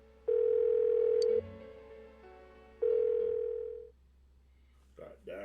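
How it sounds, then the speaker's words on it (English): A phone ringing unanswered in Persona 4 Golden: two long, loud steady ring tones with a gap between them, then a short pause and some brief speech-like sounds at the end. "Why won't she pick up the phone?"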